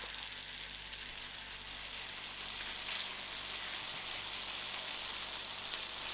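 A cabbage and baked beans curry cooks in a pan, giving off a steady, even sizzle and soft bubbling hiss that carries on throughout, with no talking.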